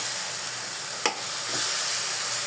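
Red amaranth greens dropped into hot oil, giving a constant soft sizzling hiss with one short sharp crackle partway through, close and fairly quiet, with no talking.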